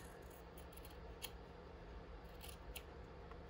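Scissors trimming lace for a junk journal page, a few soft close snips spaced irregularly over a low steady room hum, quiet and near.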